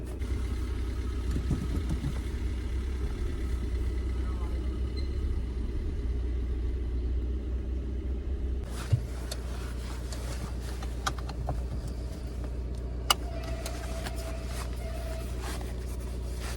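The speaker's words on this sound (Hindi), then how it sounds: "फर्स्ट गियर लगाएं और हल्का सा आगे बढ़ाएं" A car engine idles with a steady low rumble, then pulls away in first gear; the engine note picks up with a few light clicks and knocks from the car's interior.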